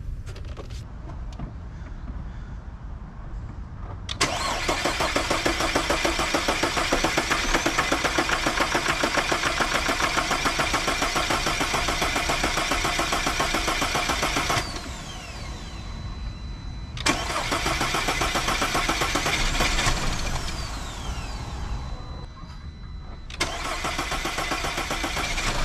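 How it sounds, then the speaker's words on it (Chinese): Audi A4 engine after a high-pressure fuel pump replacement, cranking and starting into a loud steady idle, then revving and dipping, briefly cut off twice and catching again. "接下来我们去试着给它发动看看。"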